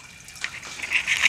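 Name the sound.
saltwater aquarium water surface-skimming into overflow drain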